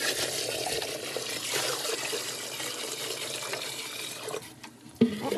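Water poured from a 5-gallon bucket into a basement sump hole, a continuous rushing splash that thins out near the end before a brief knock.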